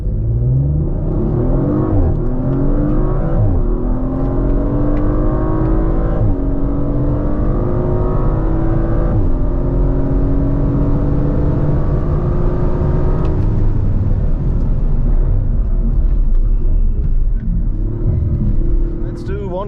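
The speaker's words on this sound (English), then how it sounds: "we now will try out how fast the car goes, 100 to 200" A 2023 Audi RS5 Competition Plus engine roars and revs hard on a track, climbing in pitch through repeated gear shifts, loud and close, with a voice speaking over it at times.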